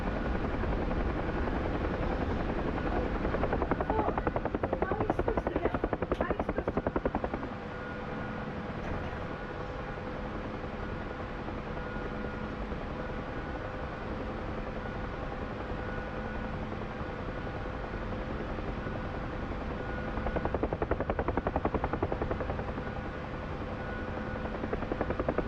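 A Huey helicopter in flight, heard from inside, gives a continuous loud rotor thrum and engine whine with steady drone, swelling louder briefly near the start and again near the end.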